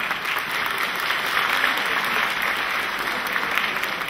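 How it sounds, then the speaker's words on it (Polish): A pageant audience at a regional beauty contest claps loudly and evenly, a dense, continuous round of applause lasting about four seconds with no break. "Jeszcze raz brawa."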